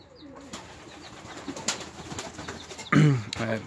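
Domestic pigeons in a loft give soft, low repeated coos, with one louder, closer burst of cooing near the end over a faint background of other bird murmurs.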